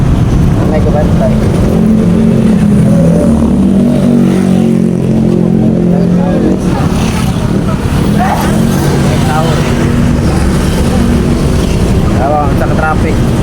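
Road traffic in Cebu rumbles around a moving vehicle, with a steady engine drone and wind buffeting close to the microphone, while people talk over it throughout.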